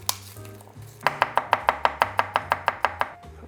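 A knife chops garlic on a cutting board, about fourteen quick, evenly spaced crisp taps close by, after a few quieter knocks.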